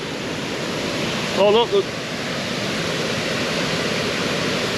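A loud waterfall at old mill ruins roars as a dense, steady rush of water that fills the whole scene, with a man's brief exclamation heard faintly over it.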